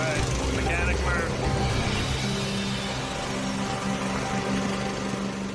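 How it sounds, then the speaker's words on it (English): Air compressor on a heavy tow truck chugging steadily, a loud, continuous mechanical drone close by while people talk over it. "Birthday boy got the compressor running."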